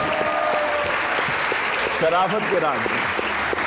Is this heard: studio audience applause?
yes